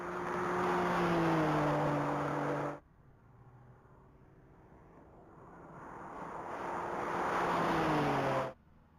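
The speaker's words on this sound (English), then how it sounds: "This is going to be the first pass for that black 2023 BMW M3." A black 2023 BMW M3 roars past at a high-speed mile race event, its engine note climbing loud and close, cutting off abruptly, then building again into a second rising pass that drops away sharply.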